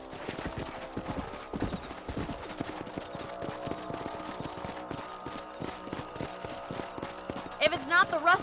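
Horses in the video game Red Dead Redemption gallop with rapid hooves clip-clopping in a steady rhythm, with a horse whinnying near the end and faint background music.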